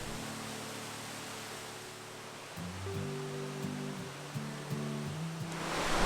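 Steady broadband rush of a flowing creek beside the trail at Kings Creek Falls in Lassen Volcanic National Park, continuous and moderately loud, with a low tonal hum drifting in partway through.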